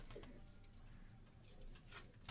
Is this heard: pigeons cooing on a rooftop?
yes